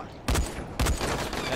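Two sharp gunshot blasts from the video game Dying Light, spaced about half a second apart, each loud and close, followed by a sustained noisy game soundscape.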